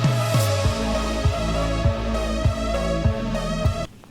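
Synthwave bass and kick drum loop in Ableton Live for an outrun track: a steady four-on-the-floor kick thumps under a sustained, buzzing bass and bright synth tones, loud and close, cutting off abruptly near the end.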